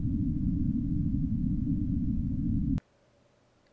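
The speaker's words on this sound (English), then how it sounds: "The total noise between 0 and 300 Hertz." Low rumbling band-limited noise confined below about 300 Hz, a steady dull roar lasting nearly three seconds before cutting off abruptly into near silence.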